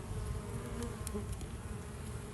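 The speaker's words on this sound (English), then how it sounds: "You'll see the bee activity there." Honeybees buzz steadily around an opened hive during an inspection, a dense, continuous close drone with no voices over it.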